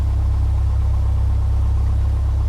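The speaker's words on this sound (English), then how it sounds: "It slowly increases as the engine warms up." Steady low rumble of a Piper PA-28-180 Cherokee engine idling in a flight simulator game, constant and even throughout with no voices.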